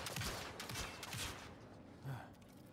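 Dense volleys of gunfire from the video game Mass Effect Andromeda, a sustained rattling barrage that eases slightly after the first second and a half, fairly loud and continuous.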